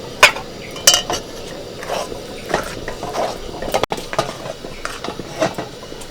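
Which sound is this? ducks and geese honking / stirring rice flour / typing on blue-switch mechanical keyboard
stirring rice flour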